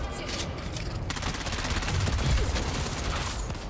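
Gunfire in the survival game Dune Awakening comes as a steady, rapid stream of close shots layered over rumbling noise, loud throughout with no talking.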